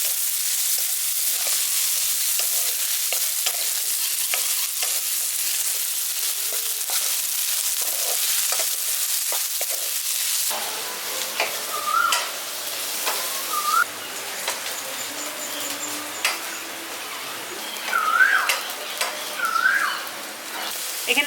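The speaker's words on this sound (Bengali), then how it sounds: "এবার সবগুলোকে হালকা করে একটু ভেজে নিচ্ছি।" Cashews, ginger and garlic fry lightly in a pan, a close, even sizzle that drops to a quieter hiss midway while birds chirp now and then outdoors in a village setting.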